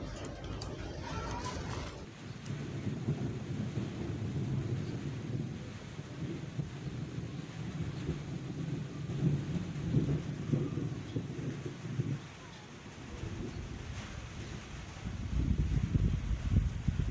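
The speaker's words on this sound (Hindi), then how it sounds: "बारिश हो रही है" Rain falls steadily over a rough, unpaved village area during a storm, with low rumbles of thunder rolling through much of the scene and gusts buffeting the microphone; a brief crackling rattle opens the recording before the heavy, continuous downpour takes over.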